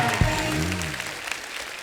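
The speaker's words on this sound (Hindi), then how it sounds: "मेरा मामा के लिए जोरदार ताली हो जाए" An audience at a Bollywood talk show with actor Govinda applauds in a dense, steady burst of clapping lasting under two seconds, fairly loud with no speech over it.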